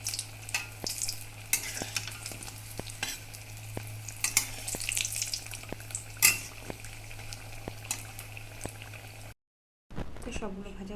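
Food sizzles and fries steadily in a hot pan in a home kitchen, with occasional clinks and scrapes of a utensil against the pan, then a brief silence before louder handling noises.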